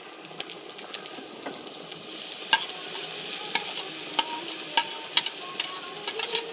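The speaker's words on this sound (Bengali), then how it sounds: "শাকগুলো দিয়ে খুব সুন্দর করে নাড়তে হবে" Hechi shak greens with onion and garlic sizzle steadily in a pan while being stirred, with sharp utensil scrapes and clicks popping up every second or so, close by and with no talking.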